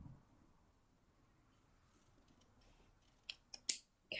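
Scissors snip through a body spray label in a quiet room, giving a few faint, sharp clicks close to the mic near the end.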